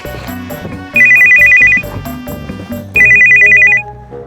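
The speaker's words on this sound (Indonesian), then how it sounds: "Lah, telepon gua bunyi nih." A mobile phone ringtone plays a repeating electronic melody with two bright, pulsing ringing bursts over the tune, loud and close.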